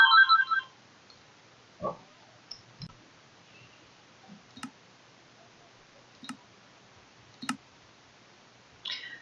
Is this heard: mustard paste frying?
no